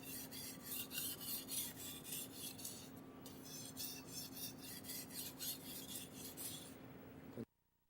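A knife is sharpened by hand on a whetstone with quick, regular rasping strokes, close and steady, one after another for about seven seconds before stopping abruptly.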